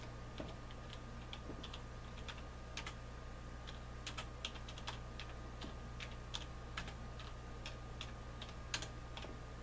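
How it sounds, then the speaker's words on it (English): Someone types a Windows 7 Service Pack 1 search into a computer's search bar, producing sparse, uneven keyboard taps, some in quick clusters, close and crisp above a low steady hum, with no talking. "So up here in the search bar, you would type"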